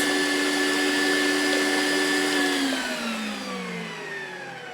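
A WonderMix kitchen mixer whirs steadily while blending hummus, its motor whine sliding downward in pitch as it winds down near the end.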